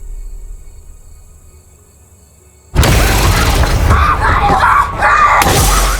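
A woman screams in fright in the horror film The Strangers: Chapter 1. After a quiet, low hum, a sudden loud burst of harsh, sustained screaming and crashing noise erupts, dips briefly, then surges again.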